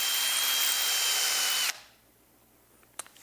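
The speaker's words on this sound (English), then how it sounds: "I've drilled my holes." A power drill bores holes in wood for a pegboard tool shelf, a loud, close, steady whine for over a second that stops abruptly, followed by quiet and a small knock.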